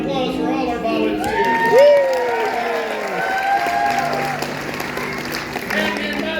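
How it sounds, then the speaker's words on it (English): An audience at a Comedy Barn show applauds for volunteers: steady clapping with crowd noise and scattered cheers, moderately loud throughout, with voices mixed in. "How about a round of applause for all our volunteers?"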